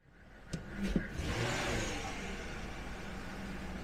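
A Jaguar S-type's newly swapped engine catches after a couple of sharp clicks, then settles into a steady running rumble close by.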